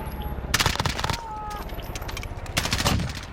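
Rapid automatic gunfire crackles in Call of Duty: Warzone during a Plunder match, with close bursts of shots, a brief pause, then another dense volley.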